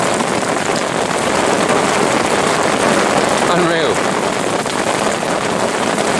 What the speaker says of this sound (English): it's turned into a thunderstorm